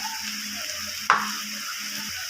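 Ground coriander, dried chili and turmeric fry in a pan with a continuous sizzle while being stirred for egg pulao, and a single sharp utensil tap against the pan cuts in midway.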